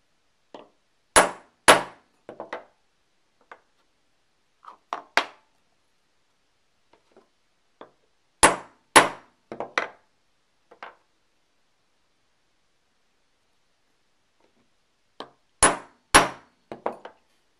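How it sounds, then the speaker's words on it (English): A hammer strikes a metal stamp resting on a steel bench block, sharp ringing clangs arriving mostly in pairs and small clusters, separated by long silent gaps. "And two hits with the hammer."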